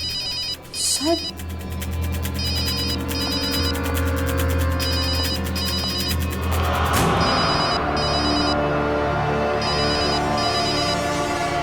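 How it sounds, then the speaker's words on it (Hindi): A phone ringtone chimes in a repeating electronic pattern, steady and fairly loud, running through the clip over a low hum. A brief spoken word comes near the start, and the tone fades toward the end into background noise. "फोन की आवाज तो यहीं कहीं से आ रही।"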